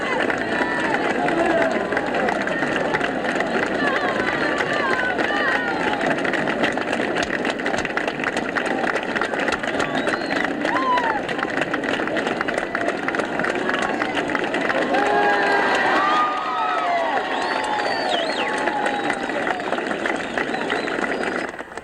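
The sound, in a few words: stadium crowd of spectators cheering and applauding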